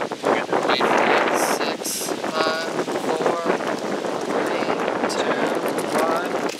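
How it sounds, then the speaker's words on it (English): A strong gust of wind buffets the microphone outdoors in a steady roar, with people talking over it. "Here comes a big gust of wind."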